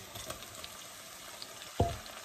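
Chicken and potatoes fry in a pan with a quiet, even sizzle throughout, interrupted near the end by one sharp clatter or stir that briefly crackles louder.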